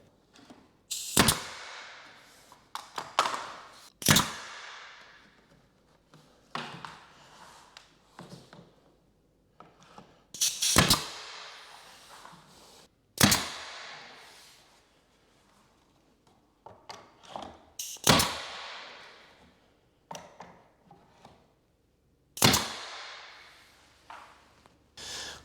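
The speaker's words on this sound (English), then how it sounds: "I have a smaller 18 gauge nailer with 1¼ or 1 inch brads." An 18 gauge brad nailer shoots brads into interior door trim, giving around ten sharp, loud snapping shots at irregular intervals, each with a brief hissing tail, alone with no talking.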